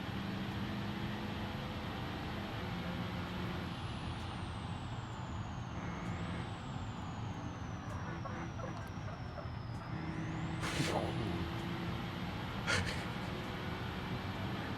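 An unladen truck in a video game rolls along with a steady engine and road rumble, a high whine shifting pitch, and a sharp hiss of air brakes releasing near the end.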